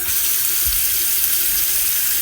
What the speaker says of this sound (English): Start by adding some water to your pan